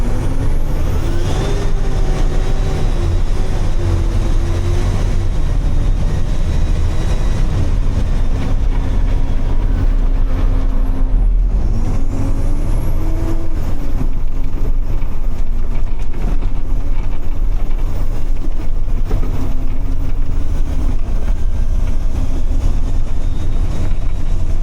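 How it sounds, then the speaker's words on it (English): A Kenworth T-470 truck runs with its turbo spooling, a loud steady diesel rumble with a rising and falling whine that stays constant throughout, close up and without talk. "Let's listen to this turbo."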